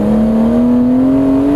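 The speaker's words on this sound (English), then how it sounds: "with lots of revs and that glorious, glorious engine sound." BMW Z3 M Coupe straight-six engine revving hard, a loud, close, steady rising tone climbing smoothly in pitch over a short burst with no talk.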